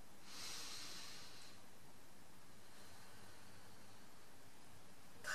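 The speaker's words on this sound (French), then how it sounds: "Inspire profondément." A single deep inhalation through the nose, close and breathy, swelling early and then easing into quiet room hiss, with a faint brief sound at the very end.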